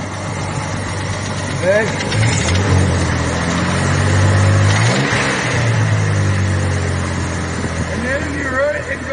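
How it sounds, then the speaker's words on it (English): A car engine runs steadily with an exhaust leak and a clattering sound from up top, a rumbling drone that holds throughout while someone talks close by. "There's the exhaust leak, but that sounds right up in the top."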